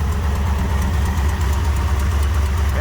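A 1973 Plymouth Satellite with a 451 stroker V8 idling loud and close after carburetor needle-and-seat work, a steady lumpy rumble with rapid ticking from noisy high-lift lifters.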